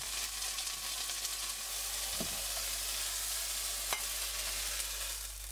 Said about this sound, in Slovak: Panvicu necháš opäť silno rozohriať, pridáš sezamový olej a dáš do nej mäso.